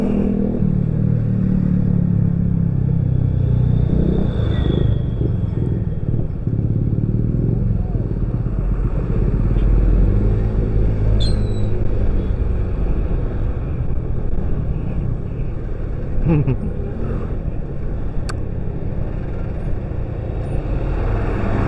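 Road traffic jam with big vehicles on the route between Bogor and Sukabumi, heard from a motorcycle, with a continuous low engine rumble and wind buffeting, occasional revving and a brief horn, while someone talks over it.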